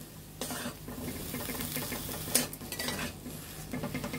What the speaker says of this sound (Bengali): এখন একসাথে সব উপকরণগুলো ভেজে নিতে হবে।